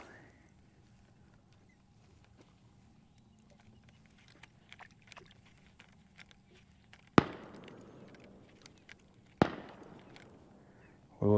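Two sharp distant gunshot cracks several seconds apart at Lake Guntersville, each echoing briefly, over a quiet low hum of outdoor ambience.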